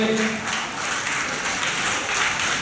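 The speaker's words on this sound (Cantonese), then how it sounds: "請大家咧一次過俾啲掌聲" Applause at a school end-of-term award ceremony in Hong Kong: a steady wash of many hands clapping at moderate distance, continuous for a few seconds with no gaps.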